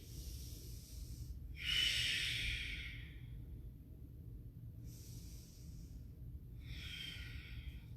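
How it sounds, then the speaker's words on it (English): Strong, forceful breaths drawn while holding a high plank during a power yoga flow, each breath a loud airy rush, two big bursts followed by a softer one, close and unaccompanied over low room hum. "Strong breath here in high plank."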